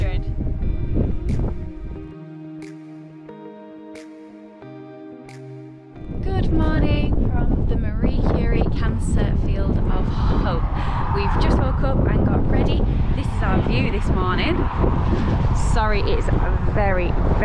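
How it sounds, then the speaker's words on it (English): A few quiet seconds with some tones, then strong wind on the Scottish north coast buffets the microphone in a loud, steady roar that carries on to the end. "Very windy up here"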